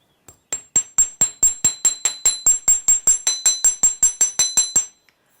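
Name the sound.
hammering wire on a block to work harden it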